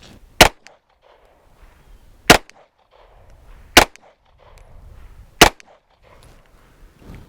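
Four sharp pistol shots ring out at a shooting range while a red dot sight is zeroed, spaced about one and a half seconds apart, loud and close, with quiet rustling between them.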